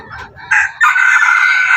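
A labuyo (red junglefowl) rooster crows loudly and close by, one long drawn-out call following a couple of short clucks, with faint rustling underneath.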